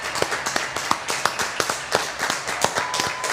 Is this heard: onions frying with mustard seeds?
no